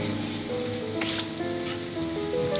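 Potato cutlets fry in a pan with a steady close sizzle and crackle, a few brighter spits standing out, no talking.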